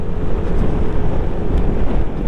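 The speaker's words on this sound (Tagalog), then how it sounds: "malakas yung hangin niya" Strong, steady wind roars against the microphone throughout, a dense low rumble with no pauses and no voices, by the Bagsit River in Palauig, Zambales.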